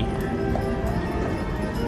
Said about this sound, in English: Main Street Disneyland trolley, horse-driven trolley.